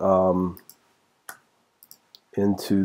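A computer mouse clicks a few times to open a folder, with sparse, sharp clicks in a quiet gap between stretches of someone talking.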